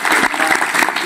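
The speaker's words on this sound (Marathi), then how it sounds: "आपण जोरदार टाळी वाजवू." An audience at a comic kirtan gathering claps loudly, a dense burst of hand claps that fills the whole second at close range.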